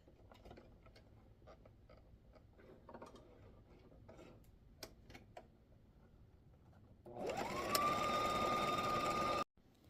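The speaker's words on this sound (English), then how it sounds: "I'm just going to put that piece of elastic down at the bottom, and I'm going to sew at the top." A sewing machine stitches elastic onto baby mitten fabric, running as a steady, loud mechanical whir for about two seconds near the end and then stopping abruptly, after quieter handling and ticking sounds.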